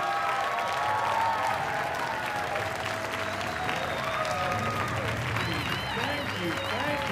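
Applause and cheering from a comedy club crowd at Gotham Comedy Club in New York City, sustained and close, with whoops over a steady clapping wash.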